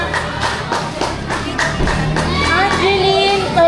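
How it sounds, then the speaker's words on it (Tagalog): Children clap in a lively group at a mission outreach gathering, with a steady burst of rhythmic hand claps mixed with cheering and young voices. "Palakpak."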